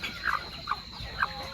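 Free-range village chickens clucking before feeding, three short, faint clucks spaced apart over a quiet farmyard background.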